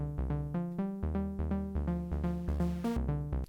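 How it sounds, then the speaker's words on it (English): A basic synthesizer saw wave patch with no white noise layer, playing a bright, buzzy, harmonic-rich sequence of short repeated notes in a steady rhythm, close and alone. "it's just a very basic saw wave sound"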